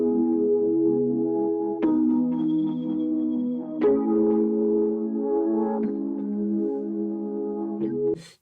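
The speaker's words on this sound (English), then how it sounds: "I've got myself a little keyboard track that sounds like this." A keyboard track plays sustained chords in a recording studio, changing roughly every two seconds in a slow steady pattern, clean and alone with no voices.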